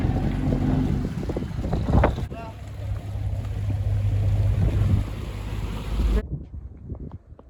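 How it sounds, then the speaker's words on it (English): A blessed fishing boat's engine rumbles low and steady as it passes on the water at the Iles de la Madeleine, wind buffeting the microphone, a few distant voices early on, ending abruptly. "Here's the very last boat,"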